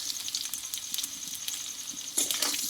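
Potatoes frying in a pan with salt and turmeric, giving a steady close sizzle with scattered small crackles and a louder burst of hiss near the end.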